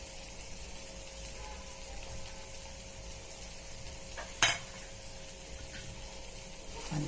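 Masala frying in a pan with fresh coriander while being stirred, a soft continuous sizzle with one brief clatter of the spoon near the middle and no talking.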